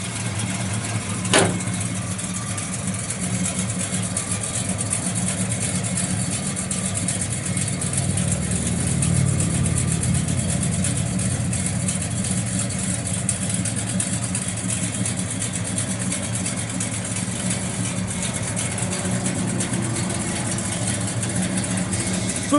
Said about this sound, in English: You hear the thing just thumping out the exhaust.